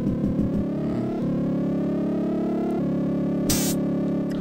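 A car in the Lotus III racing game drives onto a turbo zone. A buzzy, synthetic engine tone holds steady and steps up in pitch twice, and a sharp hiss bursts in near the end, with no talking.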